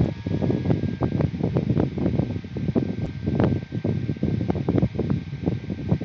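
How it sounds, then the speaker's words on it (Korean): An electric fan blows air straight into the microphone of an EPOS H3Pro wireless headset, making a loud, gusty low buffeting that pulses irregularly throughout, with no talking. "지금은 야외에서 바람이 부는 환경을 구현해 보기 위해 마이크 쪽으로 선풍기를 틀어봤습니다"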